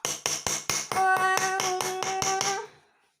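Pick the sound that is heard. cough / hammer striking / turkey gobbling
hammer striking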